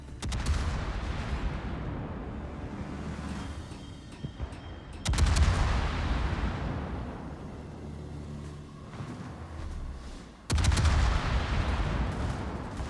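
Warship secondary guns fire in a naval video game aboard the French battleship Patrie, three sharp loud booms spaced several seconds apart, each trailing into a rumbling decay.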